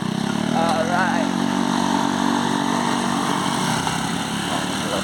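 A motorcycle engine runs close by with a steady buzzing drone throughout, while voices and other noises sound over it.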